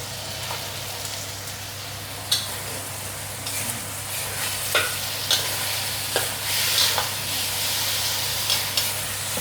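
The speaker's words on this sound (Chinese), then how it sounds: "不要太大火煎哈" Chicken pieces sizzle and fry steadily in a pan for a braised chicken with potato and mushroom dish, a continuous crackling hiss with occasional louder pops and stirring clatters, close up and without talk.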